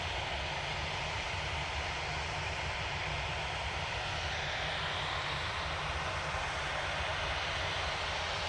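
A Cathay Pacific airliner taxiing at Manchester Airport gives a steady, broad jet engine rumble and whine that holds evenly throughout, moderately distant with no talk.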